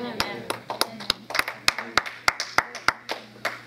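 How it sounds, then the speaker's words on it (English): A church congregation claps in a regular, fairly slow rhythm, a dozen or so sharp distinct claps, somewhat sparse and light rather than thunderous. "That was a weak hand clap, but thank you for trying."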